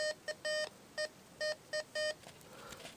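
A metal detector set to its highest discrimination beeps over an old square nail while relic hunting in Arizona: six sharp, clear electronic tones in an uneven rhythm, some short and some held, over a faint outdoor background.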